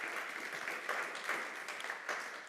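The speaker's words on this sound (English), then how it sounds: "A big applause to Antonino." An audience breaks into steady applause after a talk, the dense clapping sustained at moderate level with small swells of louder bursts throughout.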